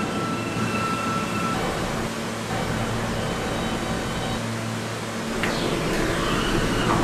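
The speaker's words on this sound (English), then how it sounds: "This is a Metropolitan Avenue bound M train." An R160A M subway train running on the D/M/S lines in a Roblox game, a loud, steady rumble and roar of the car in motion, with a rising whine near the end.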